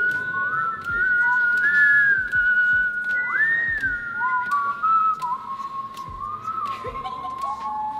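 Three people whistle a new pop song together in a studio setting, a clear sustained melody with sliding pitches carried near and loud, accompanied by faint rhythmic thumps underneath.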